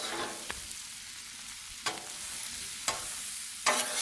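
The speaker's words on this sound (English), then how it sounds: "Stir it up. Get it all stirred in, see how it looks." Cabbage and sausage frying on a Blackstone griddle hiss steadily up close, broken by three or four sharp scrapes of a spatula stirring the food.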